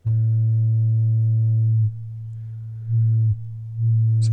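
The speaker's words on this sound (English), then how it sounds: "when you have this set to sine wave, filters don't work on sine waves" A steady Therevox ET-4.2 synthesizer sine tone, loud and pure, that drops in level and returns a few times as a filter sweeps across it.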